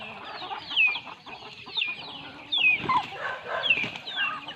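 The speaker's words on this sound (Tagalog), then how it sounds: "Ang cute na mga sisiw." Chickens and chicks clucking and cheeping nearby, high peeping chirps repeating over soft clucks and scratching, fairly close and continuous with no talk.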